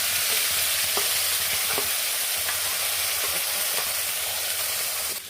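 Meat curry with chili, ginger, garlic and onion sizzles loudly in a pan, a constant frying hiss broken by periodic stirring scrapes, close and without talk.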